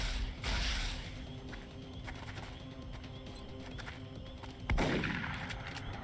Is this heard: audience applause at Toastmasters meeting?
no